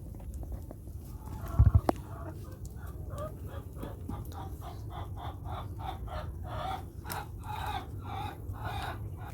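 Free-ranging backyard chickens cluck and call near their coop, a steady stream of short repeated clucks at moderate level with one brief louder knock early on and no talking.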